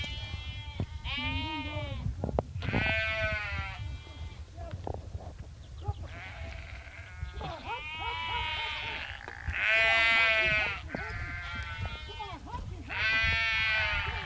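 Sheep bleating on a farm near Eskra, several loud, close calls in overlapping bursts, with a few quieter sounds and low rumble between them.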